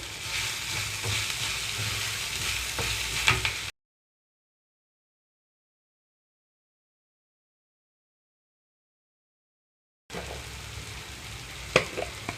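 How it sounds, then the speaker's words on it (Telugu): Tindora frying in a pan with curry leaves, a steady bright sizzle for a few seconds, then a gap of silence before the sizzle resumes with a sharp crackle near the end. "ఇంకొంచెం ఫ్రై అవ్వాలి మనకి ఇందులోనే ఇప్పుడు కరివేపాకు రెమ్మలు వేసుకుంటున్నాను"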